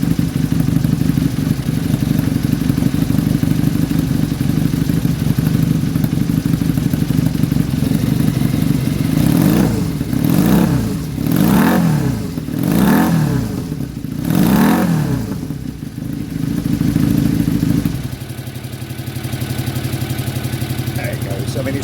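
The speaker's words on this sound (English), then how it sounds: "It's not the meatiest bike in the world, but actually I think it sounds pretty good." A Honda Superdream motorcycle engine runs steadily near the mic with a low throbbing idle, rises and falls through several quick revs in the middle, then settles back to idle.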